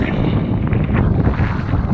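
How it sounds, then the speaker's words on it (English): Strong wind of about 22 mph roars steadily across the microphone while wing foiling on a Gong 5'10" 135-litre board, a loud, broadband buffeting rush with faint water and wave wash beneath, no voices. "quite windy now, probably up to about 22 miles an hour"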